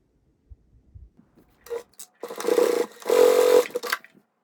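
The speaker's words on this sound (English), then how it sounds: "just take this to the machine and stitch it right along the edge there" A sewing machine stitches along the edge of webbing in two sustained whirring bursts after a few soft handling taps.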